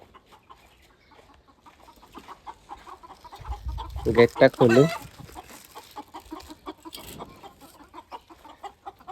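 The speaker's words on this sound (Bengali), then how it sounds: "ওই যে গাইস ভিতরে আমার মুরগিগুলা দেখছেন, আওয়াজ দিতেছে।" Hens and a rooster inside a coop break into a loud burst of clucking and squawking midway, with quieter scattered clucks before and after and a person speaking briefly nearby.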